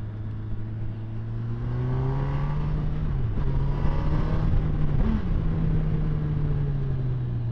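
A 2018 Honda CB1000R motorcycle engine drones and pulls steadily on the road, its tone rising briefly between shifts under wind rush, with no talking.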